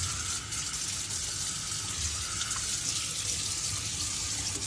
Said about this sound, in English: just rinsing out the sink really well so that we can move on to the next thing